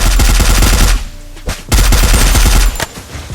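Rapid automatic gunfire from a video game shooter in a snowman-themed battle mode, loud and dense bursts with a short pause in the middle, then another long burst and a brief quieter tail.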